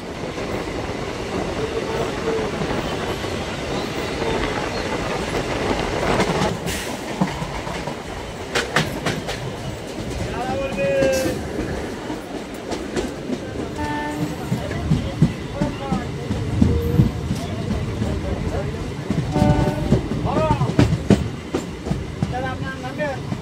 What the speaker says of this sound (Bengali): বাহাদুরপুর থেকে আমাদের গাড়ি ছাড়লো